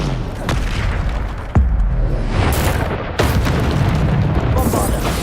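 Bombarda spell explosions in a wizard video game: heavy booms land about every second or two over a dense, roaring backdrop, while a voice shouts spell names throughout.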